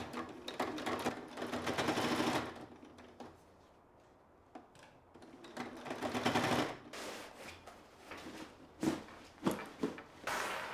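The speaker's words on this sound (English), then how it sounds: "this is the bit that the sewing machine is going to hate the most because it's so many layers of fabric" A home sewing machine labours through many layers of fabric while making a bag, running in bursts of rapid stitching with pauses and a few slower thumping stitches near the end.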